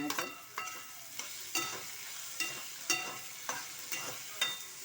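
Onions fry in a pan, a spatula scraping in a steady repeated rhythm about every half second over a continuous sizzle, close and fairly quiet.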